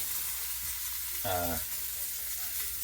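Swordfish and scallops fry in a pan, a steady close sizzle and crackle with a brief louder burst of stirring or shifting near the middle.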